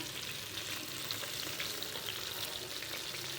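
Rock fish fries in oil over a low flame, giving a constant, soft, even sizzle with faint crackles and no voices.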